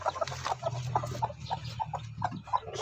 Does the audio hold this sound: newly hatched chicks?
yes